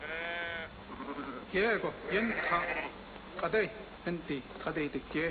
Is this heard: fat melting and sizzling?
no